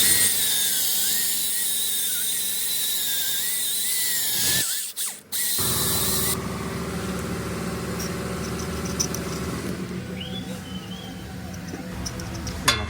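A pneumatic air hammer rattles loudly and steadily on a Ford Explorer front axle, cuts out briefly partway through, then starts up again with a harsher, busier tone.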